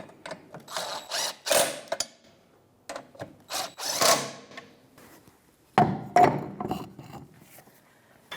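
Ratchet wrench fitted with a 10mm socket tightening small bolts on a 2013-2018 Toyota RAV4 during rear coil spring replacement, giving several close bursts of rapid metallic clicking separated by short pauses.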